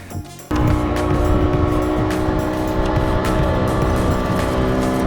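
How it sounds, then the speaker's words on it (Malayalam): Powerful engine drone of a speedboat running fast on a boat ride from Chunnambar Boat House toward Paradise Beach in Pondicherry, starting after a brief quieter moment and then holding loud and steady with water and wind noise throughout. "നല്ല സ്പീഡിൽ തന്നെയാണ് നമ്മളെ ബോട്ട് പോയിക്കൊണ്ടിരിക്കുന്നത്"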